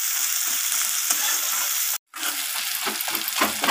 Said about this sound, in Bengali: পেঁয়াজগুলোকে আমি কালার চেঞ্জ হওয়া পর্যন্ত ভালোভাবে একটু ভাজা ভাজা করে নেব